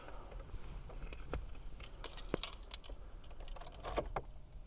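A bunch of keys jangling and clinking close by, in small bursts of light metallic rattling.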